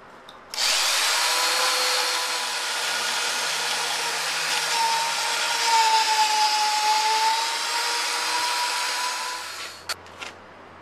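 A power drill bores steadily into a log for handmade log furniture arm rests, a loud continuous whine running about nine seconds with slight pitch dips under load, then stopping, followed by a couple of brief knocks.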